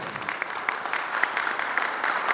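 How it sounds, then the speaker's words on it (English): Audience applause at a professional conference panel in Oman, a steady wash of many hands clapping at moderate loudness, continuous and fairly even throughout. "A bigger round of applause."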